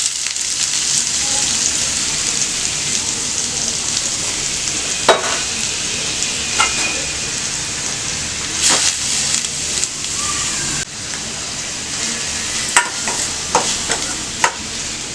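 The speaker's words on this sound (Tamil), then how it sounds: "இப்போ சீரகம் பொரிஞ்சதும் வெங்காயம் போட்டுக்கலாம்." Onions and cumin seeds fry in hot oil with a constant loud sizzle. Scattered sharp pops and spoon clatters cut through it.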